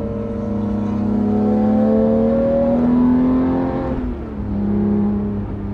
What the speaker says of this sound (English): Wow, the motor does sound a lot different.